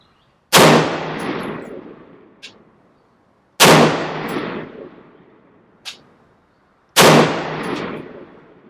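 Three loud, unsilenced gunshots from a Midwest Industries Tactical Response AR pistol, evenly spaced about three seconds apart, each a sharp crack with a long ringing decay, and a faint metallic clink follows the first two shots.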